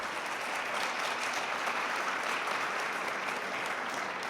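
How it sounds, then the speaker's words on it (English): A crowd claps steadily at an Army nursing anniversary event, an even, sustained round of applause from many people, heard at a moderate distance without any voices. "We'd like another round of applause, though, for our amazing speakers."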